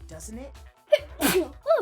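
A single sharp sneeze bursts out close up between snippets of speech from nearby voices.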